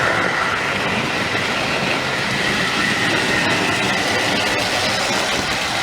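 Tri-ang model railway train running on a layout, a loud, steady close rumble of wheels and motor with faint clickety rhythm, continuous throughout without talk.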